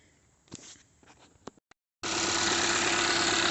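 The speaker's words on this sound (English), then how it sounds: "It is shaking, it is unhappy." A Kia Soul with a 2.0L GDI engine cranks in a few brief bursts, goes quiet for a moment, then catches and runs on as a steady, loud, rough idle close by.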